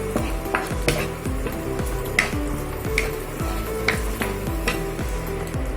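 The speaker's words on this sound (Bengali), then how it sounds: "এটা দিয়ে আমি 2-4 মিনিট একটু নাড়াচাড়া করে" A spoon stirs garlic-ginger paste in a pan while making egg korma, giving repeated scraping strokes at a steady rhythm over a constant sizzle and occasional light clinks of metal, close and moderately loud.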